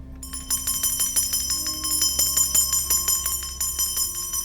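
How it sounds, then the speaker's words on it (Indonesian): A bell rung in a tense family drama scene, a steady train of bright metallic strikes ringing out at a regular pace over a low droning background, with no talk. "Kalau kakek udah bunyiin lonceng,"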